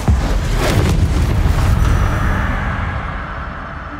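A Confringo spell goes off in Hogwarts Legacy, a loud, close, booming blast that hits at once and then rolls into a long crackling rumble that fades away over several seconds.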